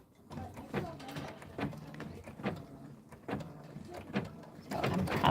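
An embroidery machine stitching out a mug rug design runs with a repeated rhythmic mechanical thumping and whirring, about one stroke per second, close and fairly loud.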